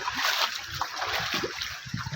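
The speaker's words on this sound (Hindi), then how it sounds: "मैं जा रहा हूँ पानी के अंदर से।" Feet splash and slosh through deep floodwater in a rain-flooded street, giving irregular watery surges up close over a constant wash of rain and running water.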